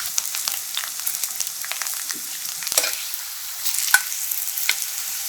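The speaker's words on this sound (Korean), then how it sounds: "팬에 올리브유 적당히 두르고 달궈주면 밑간을 해둔 콜라비는 물기를 털어내고 중약불에 앞뒤로 노릇노릇하게 구워내면 맛이 깊어집니다" Kohlrabi pieces pan-frying in olive oil over medium-low heat give a close, continuous crackling sizzle with scattered sharper pops.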